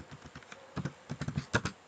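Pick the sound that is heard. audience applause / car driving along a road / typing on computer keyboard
typing on computer keyboard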